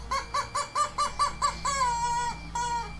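A squeaky toy chicken, a dog's plaything, gives about seven short, evenly spaced squeaks followed by two longer drawn-out squawks, loud and close with no talking.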